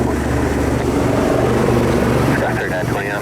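A helicopter flies at Washington Dulles airport, giving a steady, loud rotor and engine drone that fills the clip. A faint radio voice sits under the noise.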